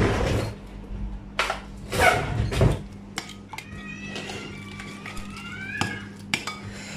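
A spoon clatters and scrapes in a bowl while spices, yogurt and vinegar are mixed together, with a few clinks and bursts of stirring and a brief squeaky tone near the end.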